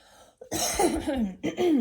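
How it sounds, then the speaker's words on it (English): A person clears their throat with a couple of rough, throaty rasps and a brief pause between them, close and fairly loud. "Let me clear my throat."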